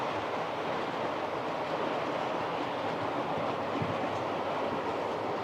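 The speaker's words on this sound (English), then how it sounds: "I love building my model railway." Model railway train running steadily on its track, a continuous close rattling rumble with faint clickety-clack texture throughout, no voices.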